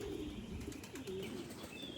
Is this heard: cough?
no